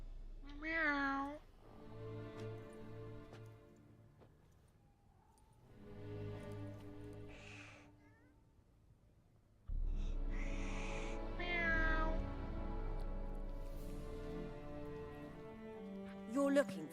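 A cat meows several times inside a Witcher 3 game scene, with music and in-game dialogue and a streamer's voice around it; the mews come in short bursts, fairly clear against the mixed background.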